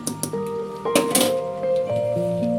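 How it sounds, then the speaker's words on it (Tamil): A spoon scrapes and clinks against a metal cooking pot while rice is stirred, with several sharp clanks early on and ringing metallic tones sustained between them. "அரிசி போட்டாச்சு. இப்போ கிளறிட்டு"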